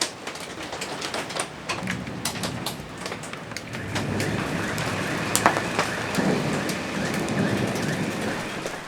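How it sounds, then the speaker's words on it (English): Hail drums on a sailing boat at anchor, a dense, steady pattering with scattered sharper ticks that thickens partway through and stays close and continuous, with no voices. "there is hail right now"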